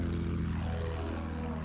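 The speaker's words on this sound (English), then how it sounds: "And I got the plane." A World War I propeller airplane engine in the video game Battlefield 1 drones steadily and fairly faintly, a continuous buzzing hum with a slight shifting pitch and no speech over it.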